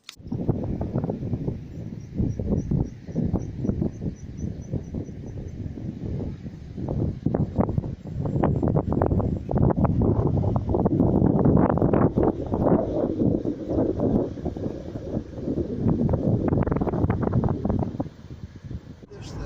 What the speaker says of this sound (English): it's quite windy and the house, this house was shaking